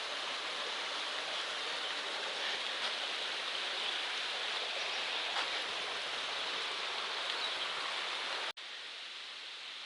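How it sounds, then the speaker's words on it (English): Dunfield Creek flowing along the Appalachian Trail in New Jersey, a steady broadband rush of running water heard up close and continuous, with a brief cut near the end. "This is Dunfield Creek,"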